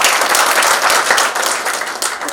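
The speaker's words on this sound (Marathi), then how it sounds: "टाळ्या" Sustained audience applause at a public lecture in a hall, dense steady clapping from a crowd holding an even level for a couple of seconds before easing slightly.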